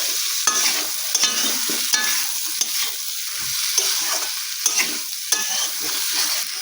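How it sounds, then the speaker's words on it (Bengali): Beans and potatoes fry in a pan while a utensil stirs them, a steady close sizzle broken by repeated scraping strokes, with no voices. "দেখো তাকে ভালো করে একটু ভাজা ভাজা করে নিচ্ছি।"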